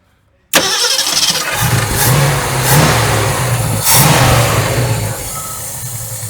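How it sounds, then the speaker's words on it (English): A 1969 Ford Mustang engine, a one-owner car with 59K original miles that sat for over 30 years and may have a dead cylinder, cranks and catches, then idles with a lumpy loud rumble and revs up in rising surges. "I'm gonna idle it way up"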